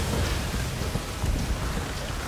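The Shadow Rain ability effect in Soulstone Survivors gives a constant, loud, hissing rain-like wash with low rumbling thumps underneath. It lasts about two seconds with no talk.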